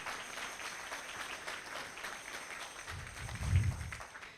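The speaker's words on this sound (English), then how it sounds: "Give yourselves a big round of applause because we are hitting that goal this afternoon" Faint, distant applause from a fundraiser crowd, a thin sustained patter of many hands that swells slightly near the end, heard alone without talk.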